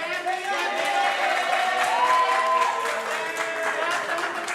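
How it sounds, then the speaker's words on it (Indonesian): A crowd at a birthday celebration on a live show claps and cheers for Gary, the applause blending with sustained tonal voices or music in a loud, busy room. "tepuk tangan dong buat Gary."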